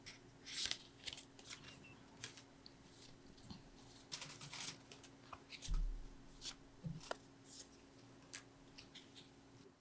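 Tarot cards being shuffled and drawn during a reading, giving soft, intermittent papery riffles and flicks in quick bursts. The sound is close and fairly quiet, with no talking.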